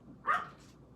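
A pet dog gives a single short, fairly loud bark indoors, with quiet room tone before and after.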